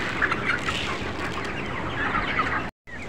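Broiler chickens on antibiotic treatment cluck and squawk in a crowded poultry shed, a dense continuous chorus of overlapping calls with steady background noise and a brief dropout near the end.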